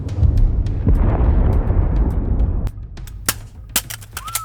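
A Walther PDP Pro pistol is spiked onto the ground and lands with a few sharp clattering impacts, followed by scattered clicks and taps close by over a rumbling outdoor background.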